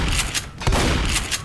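A quick run of loud, close gunshots rattles out in Left 4 Dead, several sharp reports packed into a second and a half.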